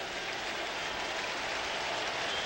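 Stadium crowd applauding a substituted player at a 2003 Manchester United v Celtic pre-season friendly, a steady dense wash of clapping and noise across the whole stretch with no voices standing out.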